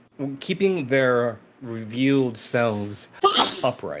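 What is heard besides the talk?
sneeze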